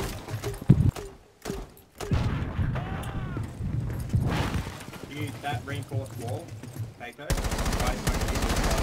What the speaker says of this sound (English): Yeah, you're shooting at him.